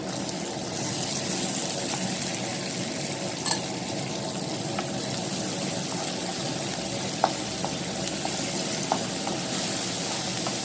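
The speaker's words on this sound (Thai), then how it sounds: "ทียมลงไปผัดนะคะตามด้วยพริกจินดาแดงเลยค่ะ" Garlic and red chinda chilies stir-frying in a hot pan give a steady, close sizzle with a few light clicks from stirring, and no voices.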